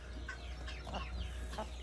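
A rooster on a farm clucks in a few soft, short bursts close by but faint, with no talking.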